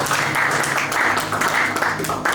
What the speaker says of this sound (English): Clap for my interpreter.